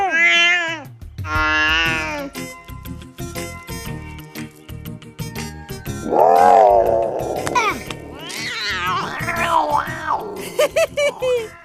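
A voice imitates a cat, giving several drawn-out meows in a cartoon scene, with other character voices talking and babbling loudly around them.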